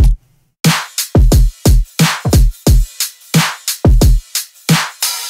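Funky bass music drum pattern, punchy low kicks and snappy snares in a syncopated groove, loud and close after a short quiet start, with no voices.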